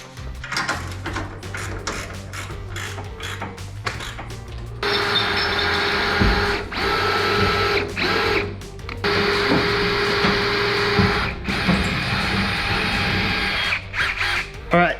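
Power drill boring holes through a drill guide on a Corvette drift car build, quiet intermittent bursts at first, then a long sustained loud whine broken by short pauses, with some talk in the background.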